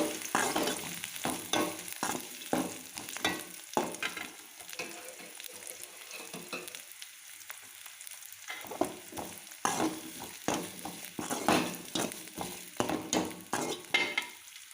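Chopped onion sautéing in a pan with ginger and garlic for masala egg pasta, a soft sizzle broken by repeated scraping and stirring strokes of a spoon, close and fairly quiet.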